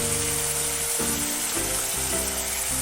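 A spoonful of ground cumin hits a hot pan with a splash of water, for a dhaba-style paneer bhurji: a close, loud, continuous sizzle and crackle that never lets up, with no talking.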